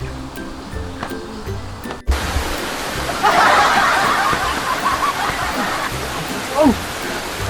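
Heavy rain starts pouring down suddenly partway through, a broad steady hiss of downpour after a quieter stretch, with a brief exclamation from a voice near the start.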